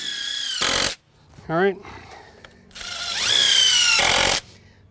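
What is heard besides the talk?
power drill driving screws into wooden deck frame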